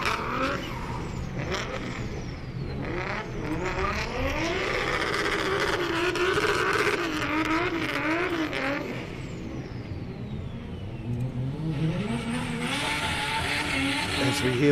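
An FC drift car engine screams and revs up and down at high pitch at the Manfeild circuit, with tires squealing across long drifting slides, loud and continuous.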